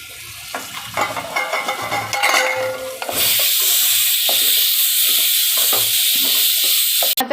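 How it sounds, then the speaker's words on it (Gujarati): Capsicum, peas, cabbage and corn hitting a hot pot and stir-frying, a sudden loud sizzle that jumps up midway and holds steady, with earlier clatter and scraping as the vegetables are added. "કેપ્સિકમ, વટાણા અને કોબી નાખશું ને મકાઈ નાખી દઈશું"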